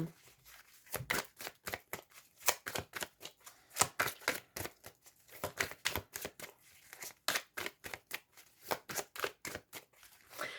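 Tarot cards being shuffled and drawn, a steady run of crisp riffling bursts and soft slaps of card stock, close and fairly quiet, with no talk over them.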